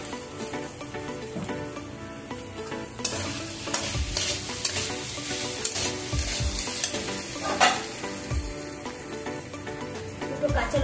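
Ginger paste and cumin powder fry with raw pumpkin, potato and chickpeas in a pan, giving a steady close sizzle with occasional stirring scrapes and knocks.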